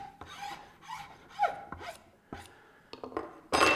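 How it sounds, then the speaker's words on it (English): Short raspy scraping strokes, irregular and quiet, as a stiff wire file card is brushed across a metal file, with a louder rub at the end. "You'll see me use a file card."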